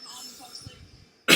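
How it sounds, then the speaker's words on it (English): A single short, harsh cough bursts out near the end, loud and close, after a stretch of quiet background murmur. "I'm starting to cough a little bit"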